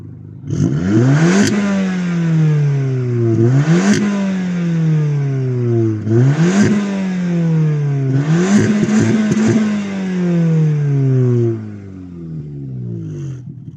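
Audi S1 and S3 hot hatch engines rev hard several times in a row, climbing in pitch then dropping back, loud and close with rattling on each release.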